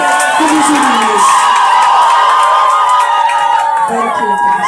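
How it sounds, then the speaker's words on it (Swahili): A church congregation gives joyful ululation in thanks to Jesus, loud warbling trilling voices mixed with cheering and crowd noise, continuous and close. "Piga vigelegele kumshukuru Yesu."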